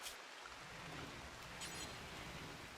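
Steady, hissing rain of a toxic storm in a survival game, a dense continuous wash with no voices over it.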